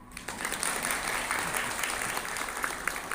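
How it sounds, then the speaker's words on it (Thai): Steady applause from a seminar audience at a provincial administrative organization anti-corruption workshop, a dense wash of clapping held at moderate level for the whole stretch. "ท่านไม่ปรบมือบ้างหรือครับ"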